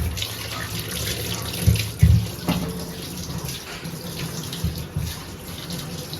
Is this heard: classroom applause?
no